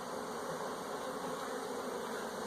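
A package of honey bees is installed into a hive, with a dense, steady swarm buzz close by and no pauses or voices.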